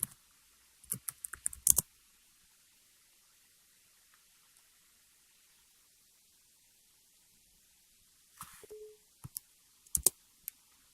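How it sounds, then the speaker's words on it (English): Key clicks from typing a command on a computer keyboard running Windows 7, arriving in two short bursts separated by a long quiet gap, close and fairly crisp with no talking. "let's type in a command here."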